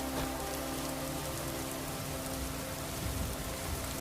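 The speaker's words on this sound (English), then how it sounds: "I definitely don't want to stay in this rain all day" Steady rain in the Skyrim video game, a constant dense patter of drops on surfaces that holds at an even level throughout, with no voices.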